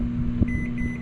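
A microwave oven heating plastisol hums steadily nearby, with a constant low drone and a faint high tone.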